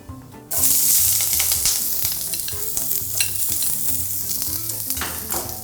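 Sliced onion and green onion drop into hot cooking oil for Chinese-style pork noodles, bursting into a loud, close, crackling sizzle that holds steady for several seconds over quiet background music.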